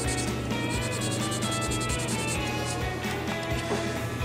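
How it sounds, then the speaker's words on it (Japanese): A file is rubbed lightly over a part from an Aoshima 1/32 Nissan Fairlady Z (RZ34) plastic model kit, giving a steady, close scratchy rasp with quick repeated strokes and no talking. "これをね軽くヤスリで削ってあげて、 パーティングラインを消してあげます"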